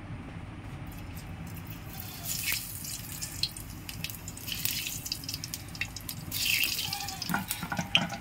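Cumin seeds drop into hot oil heated over a wood fire, setting off crackling, spitting sizzles in irregular bursts that swell and fade, fairly close, with no talking.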